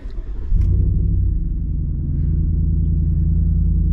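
A 2021 Ford F150 pickup truck pulls away and drives, its low engine rumble swelling after a moment and holding steady, close and continuous with no talking.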